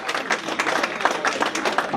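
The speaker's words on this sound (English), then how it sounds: "Give yourself a round of applause." An audience at a presentation claps in a moderate, scattered burst of applause, fairly close and uneven, with no talk over it.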